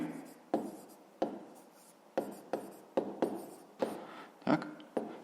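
Pen strokes on paper during a fifth-grade maths exercise, a series of about nine short scratchy bursts at irregular intervals, close and fairly quiet, with no talking.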